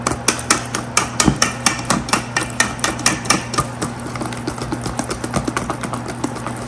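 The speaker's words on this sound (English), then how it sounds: "whisk that up" Red velvet cake batter is whisked in a bowl, giving quick, rhythmic clicking and tapping strokes at close range over a low steady hum, with no voices.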